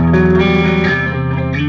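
A Synergy IICP guitar amp on its clean channel breaking up into distortion, a sustained loud, buzzy chord ringing out alone and close.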